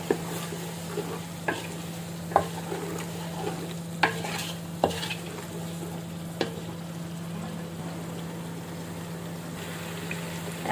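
Mango pickle simmers with vinegar in a pan over a low hum, with a gentle, steady bubbling sizzle and irregular sharp scrapes and taps as a spoon stirs it.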